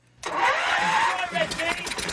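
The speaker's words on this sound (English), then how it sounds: "All right, start your engine." An engine on a machine built from scrapheap parts fires up abruptly after a quiet moment, then runs in a rough, loud, mid-pitched roar close by.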